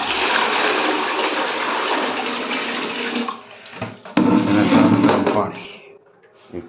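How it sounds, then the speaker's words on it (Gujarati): Hot water is poured from a vessel into a tub: a loud, rushing splash runs for about three seconds, then breaks off and returns in a second strong burst before trailing away, with voices faintly present. "આ પાણી નાખી દેવાનું છે ટબમાં"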